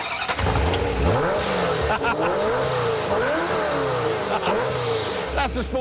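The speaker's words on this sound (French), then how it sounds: "Tuyau d'échappement en acier inoxydable. Ah oui, pot d'échappement sport." A car's 3.4-litre engine runs through a stainless steel sport exhaust, revving up and down in several rising and falling sweeps, loud and close, with a deeper rumble at the start and end.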